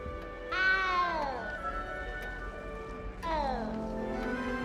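A cat meows in the Hogwarts Legacy video game, two long, drawn-out, descending cries a few seconds apart, close and clear over a soft ambient background.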